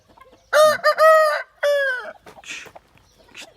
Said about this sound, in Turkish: Tavuk geldi arkadaşlar.